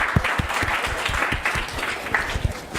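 An audience at a privacy, ID theft and scams session applauds the visiting detectives, a dense, even burst of many hands clapping that lasts throughout without letting up.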